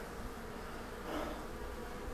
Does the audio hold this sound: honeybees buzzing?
yes